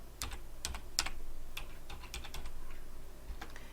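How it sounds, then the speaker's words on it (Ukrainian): Password typed on a computer keyboard, a quick series of light key clicks in an irregular rhythm, close but soft, with no voices. "Пишемо пароль до ключа."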